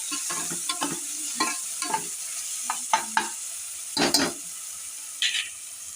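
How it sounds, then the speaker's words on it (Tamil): Ginger garlic paste sautés in a pan in bursts of sizzling and stirring, irregular scraping strokes with frying crackle between them, close and fairly loud. "அதை வந்து பச்சை வாசனை போகிற வரைக்கும் நல்லா வதக்கிடணும்."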